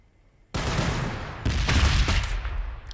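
A grenade launcher firing in the Warhammer 40,000: Battlesector video game: a sudden loud blast followed by a second heavier explosion and a rolling, crackling rumble that fades slowly.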